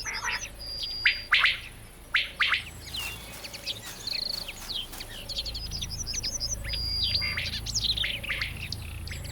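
Quail calling in a German woodland during mating season, short sharp repeated bursts of chirping notes, fairly close, with other birds and a low background hum.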